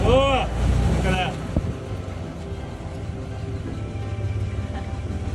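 A wooden sailboat's engine rumbles steadily on launch day with its exhaust burbling, wind buffeting the microphone, while voices call out briefly at the start.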